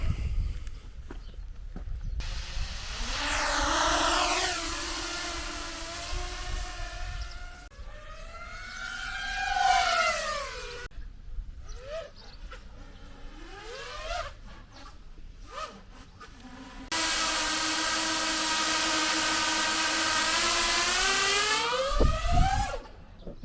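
An FPV drone's motors whir through a test flight, rising and falling in pitch with repeated throttle bursts, loud and close, ending in a sustained high whine.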